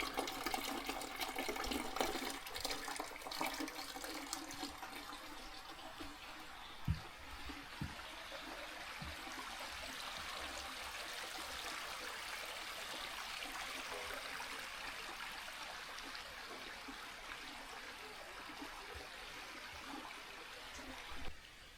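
Water runs steadily from an iron-rich mineral spring, a soft continuous trickle and splash with a couple of brief knocks, fairly quiet throughout.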